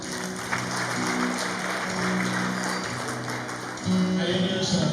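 Wedding guests clap continuously over a steady tonal backdrop, like music or a hum, and the applause swells briefly louder near the end.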